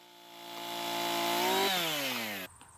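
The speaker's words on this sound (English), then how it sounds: "how easily the chainsaw goes through the second cut here" A chainsaw with a freshly sharpened chain cuts through a wooden post, its engine droning and rising in pitch as it bites through, then cutting off sharply near the end; loud and close, with no talk.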